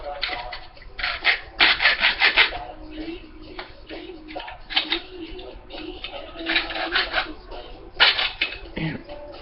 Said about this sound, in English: we're going to use the hacksaw real quick